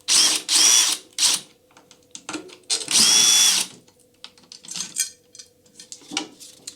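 A power drill spins out the tension rods on a tom's top drum head in several short, loud whirring bursts, each followed by faint metallic rattles and clinks of loose hardware.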